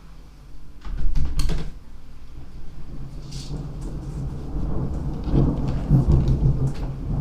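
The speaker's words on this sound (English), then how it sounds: "That is the thunder." Thunder from a storm heard through an open window, a loud close rumbling crack that rolls on in long low waves, with rain hissing steadily underneath and no talk.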